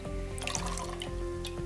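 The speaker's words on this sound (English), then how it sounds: "rinse the probe tip in fresh clean tap water" A pH pen probe tip is rinsed in fresh tap water, giving soft close splashes and drips over a steady low hum.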